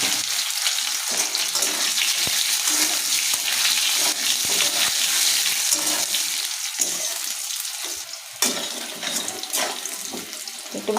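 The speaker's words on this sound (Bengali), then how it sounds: "তো আমার তেল গরম হয়ে গেছে, আমি সম্বার দিচ্ছি জিরে আর তেজপাতা" Potatoes fry in hot oil with cumin and bay leaf, a loud, steady sizzle that runs unbroken for about eleven seconds and dips briefly near the end.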